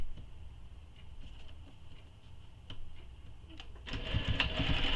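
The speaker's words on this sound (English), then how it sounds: "we're going to take this to our sewing machine and we're going to sew this edge" A sewing machine stitching the edge of a commuter tote bag, a faint low hum with light ticking at first, then a louder fast rattling run near the end.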